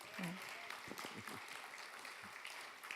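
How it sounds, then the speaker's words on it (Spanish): Congregation applause at a church service, a soft steady wash of clapping that runs through the whole stretch beneath someone speaking over it. "Um aplauso"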